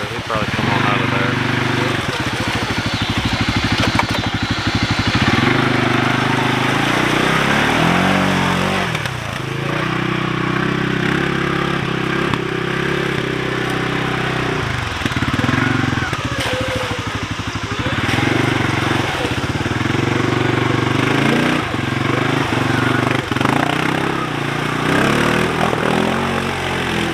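A CFMOTO CForce 500 ATV drives through mud at a new riding park, its engine droning loudly and steadily with revving swells throughout, and people talk over it.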